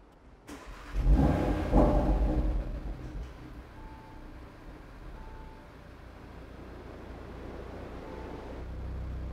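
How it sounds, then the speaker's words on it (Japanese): A 2018 Audi TT RS Roadster engine cranks and fires, a loud burst of revs settling quickly into a steady, lower idle that carries on to the end. "ではエンジンを始動します。"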